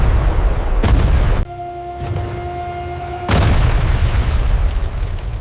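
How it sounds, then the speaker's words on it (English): A dramatized explosion at Chernobyl's Reactor 4 in 1986, loud booming roars in two broad bursts separated by a quieter stretch with a steady tone, heavy low rumble throughout and no voices. "At 1:23 in the morning, Reactor 4 exploded"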